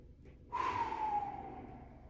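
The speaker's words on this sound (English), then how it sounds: "Breathe into the nose." A single slow breath drawn in through the nose and out, heard close and soft, a brief rush that fades gradually.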